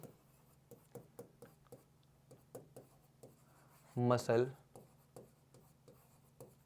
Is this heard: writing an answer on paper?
yes